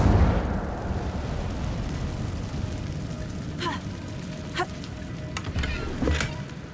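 The Incendio fire spell in Hogwarts Legacy flares with a burst of whooshing flame at the start, fading into a steady crackling roar, with a few sharp pops later on.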